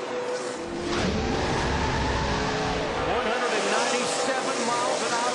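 NASCAR stock cars, Dodges and Chevrolets, roar past on the 2007 UAW-Ford 500 track in a loud, continuous engine drone that swells as the pack passes, with a commentator talking over it.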